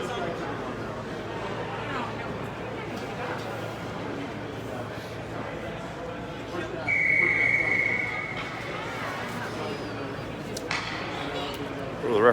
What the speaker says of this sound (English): The referees blow the whistle as they call the teams back out to center ice.